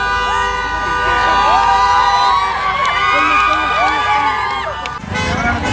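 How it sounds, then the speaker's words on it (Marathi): A large, dense crowd cheers and shouts at the opening of a branch office, numbered 234, with loud overlapping voices and tonal horn-like blares throughout; the roar stays near and constant, with a lower rumble toward the end. "फुल गर्दी झालेली या ठिकाणी गर्दी फार आवरू नाही राहिलेली"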